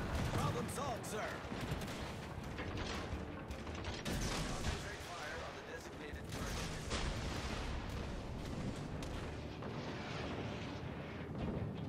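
Naval gunfire in World of Warships: Legends, with heavy booming shots and a constant rumble of battle, dense and loud throughout, with a voice talking over the fighting.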